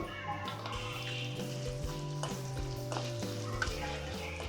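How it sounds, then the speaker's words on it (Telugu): Urad dal, chana dal and peanuts fry in hot sesame oil, with a busy close sizzle, frequent small crackles and rhythmic scraping as a utensil stirs the pan. "మినపప్పు శనగపప్పు వేరుశనగ పలుకులు ఆయిల్ బాగా మరిగిన తర్వాత వేసుకొని వేపుకోవాలి"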